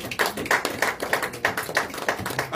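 A church congregation claps hands together in a steady, quick rhythm, the sharp claps close and even with no voices on top.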